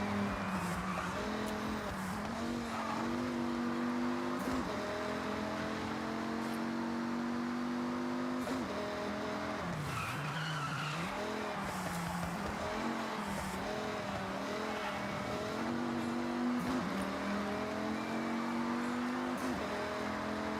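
Engines in a racing video game, including a 1969 Dodge Charger, whining and shifting steadily through revs with occasional tire squeal, loud and continuous.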